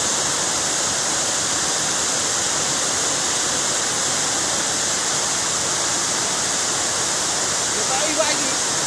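River water in Papua rushes steadily and loudly in a broad, unbroken roar, with a faint brief voice near the end.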